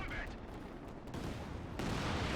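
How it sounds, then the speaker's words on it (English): Nebelwerfer rocket artillery barrage in a World War II strategy video game, a dense rumbling stream of distant blasts and whooshes that swells louder toward the end. "Another Werfer barrage."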